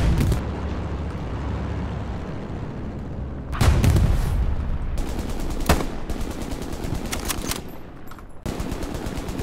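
Air strike strafing run in the World War II shooter Hell Let Loose: heavy bursts of rapid machine-gun fire and booming explosions pound close by for several seconds, with loud blasts rolling in and out between sustained rattling fire.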